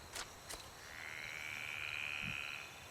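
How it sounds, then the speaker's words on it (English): A frog croaks: two short, sharp chirps, then a longer, steady rattling trill that runs to the end, fairly faint against a quiet background. "Is that what frogs sound like?"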